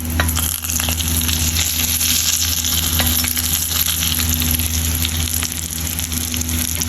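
Hot oil sizzling steadily in a pan while chicken momos are prepared, a dense continuous crackle with a low hum beneath, no talking.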